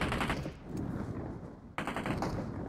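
Gunfire rattles in PUBG Mobile: loud automatic bursts crackle close by, a brief lull, then another sharp burst of rapid shots.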